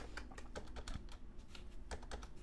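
Rapid, uneven keystrokes on a computer keyboard, soft clicks clustered in quick bursts with short pauses, close and quiet with no talking.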